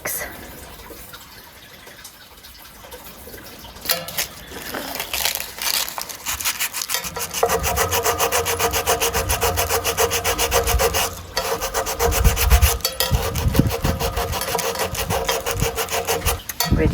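Hand-sawing wood for a homemade walking stick, a close, steady rasping back-and-forth stroke that starts a few seconds in and continues rhythmically with brief pauses, with faint talk near the start.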